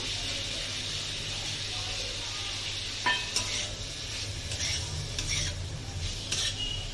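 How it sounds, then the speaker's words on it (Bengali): Sweet corn, about 150 grams, tipped into a wok for chicken soup and stirred over medium heat, giving a steady frying hiss with a few sharp spatula scrapes and clinks against the metal in the second half. "এবার আমি দিয়ে দেবো সুইট কর্নটা"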